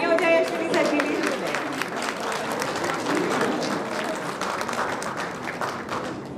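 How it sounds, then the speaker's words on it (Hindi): Audience applause at an event, a dense, steady clapping from a crowd that continues throughout, with some speech heard over it. "एक बार जोरदार तालियां हो जाए अश्विनी सर के लिए।"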